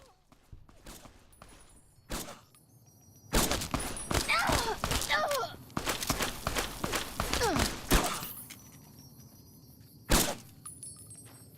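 Gunfire in Fallout: Tale of Two Wastelands with an SMG, a quick run of sharp shots in a cluster plus a few isolated cracks before and after, set against quiet wasteland ambience and scattered movement noise.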